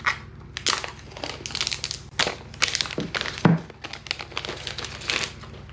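Cardboard packaging of a black 128 GB 2020 iPhone SE crinkles, rustles and thunks as the box is opened, with busy handling noises and a few sharper knocks throughout, no talking.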